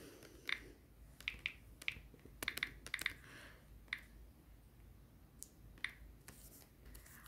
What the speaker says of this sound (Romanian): trebuie să ieșim de aici, să dăm click pe butonul de căutare, unde vom scrie Dana.